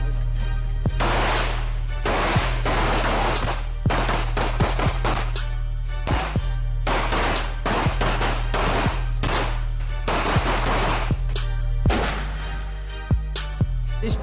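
Police shooting training with 9mm pistols and rifles: loud, sharp gunshots crack in irregular bursts and single shots over about fourteen seconds, each followed by a brief ringing decay.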